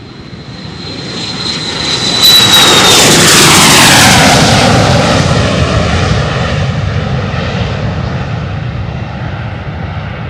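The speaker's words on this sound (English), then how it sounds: "Boeing 747." A Boeing 747 freighter jet taking off from Louisville's runway, a loud roaring engine surge that builds quickly with a high whine, peaks close by and then slowly fades as it climbs away.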